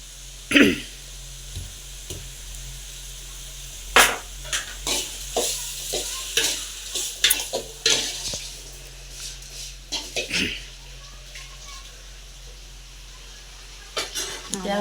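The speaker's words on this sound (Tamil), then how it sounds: "அது வந்து எண்ணெயிலே நல்லா வதங்கணும்." Crushed garlic sautés in oil in a small home kitchen, its low sizzle punctuated by repeated clattering strokes of a stirring spoon, with a voice heard intermittently alongside.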